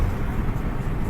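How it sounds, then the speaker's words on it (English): Wind buffeting through a partly open car window while driving on a windy day, a steady loud low rumble with broadband roar filling the whole clip, no voices. "It's very windy, so I'm sorry for the extra noise."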